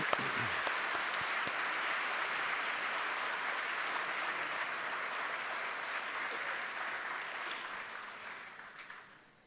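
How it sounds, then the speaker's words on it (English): Sustained audience applause at a Pencak Silat performance event at UNESCO, steady and full for about nine seconds before tapering off at the end, with no talk over it. "May I ask you a big round of applause for Madame Christine Hakim."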